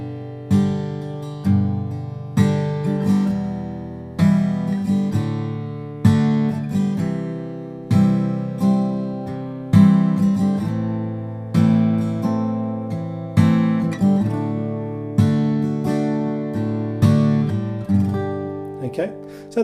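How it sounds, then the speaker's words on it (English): Guitar chord progression played without slash chords, roughly a dozen strummed chords in a steady rhythm, each ringing and decaying before the next, close and clear with no talking. "So this chord progression without slash chords would sound like this."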